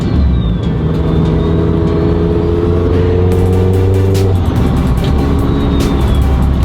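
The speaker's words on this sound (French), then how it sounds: "Là on va faire tranquillement chauffer la voiture." A Renault Mégane RS engine warming up idles and revs steadily, its low drone rising in pitch before settling back down, loud and close with no voices.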